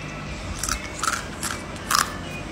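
Large spicy-sweet flavoured ikan bilis anchovies mixed with sesame are bitten and crunched close to the mouth, a handful of short crisp crunches spaced apart against a faint background hiss.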